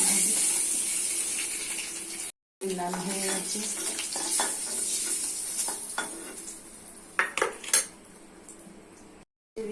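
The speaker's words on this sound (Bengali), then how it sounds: "ডিমগুলো লালতে দিচ্ছি" Eggs fry in oil in a pan, a soft sizzle running under clinks of utensils against cookware, with a few sharper metallic knocks near the end.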